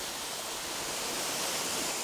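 Waterfall in Thailand heard as a steady, dense hiss of falling water, continuous and even throughout with no voices.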